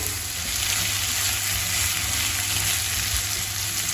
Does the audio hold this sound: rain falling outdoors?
no